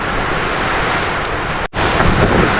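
Heavy rain and strong wind roar together at close range, a loud continuous rush with gusts buffeting the microphone, briefly cutting out midway before resuming even stronger.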